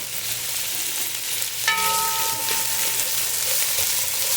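Onions sauté in a pan for chicken tinola, a steady loud sizzle with the clatter of stirring and a short metallic ring partway through.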